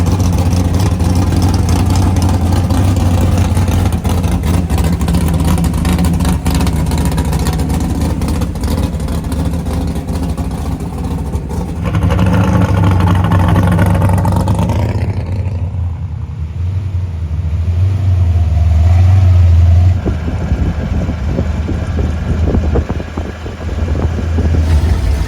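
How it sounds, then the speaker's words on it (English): Drag racing cars at the Tri-Five Nationals, with loud, rumbling engines roaring and revving continuously, swelling as they pass and fading. One throaty run surges near the middle and crackling idle follows. "let's get into some of the drag racing action"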